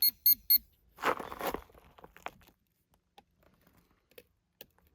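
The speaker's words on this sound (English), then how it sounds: "I'm gonna get the metal detector out and see." A metal detector gives three quick electronic beeps close by. Rustling and scraping follow, then a few faint clicks and taps over near silence.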